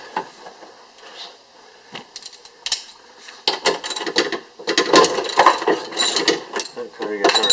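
A ratchet wrench works on a window motor bolt inside a Ford Focus door, producing bursts of quick clicking and metallic rattles. These start sparse, then grow denser and louder toward the end, close-up with no speech.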